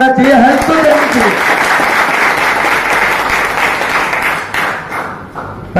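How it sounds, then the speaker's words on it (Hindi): An audience at a Hindi business seminar claps loudly and continuously, a dense wash of applause after a brief spoken voice, tapering slightly toward the end. "सारे होशियार लोग एक जोरदार ताली होना चाहिए"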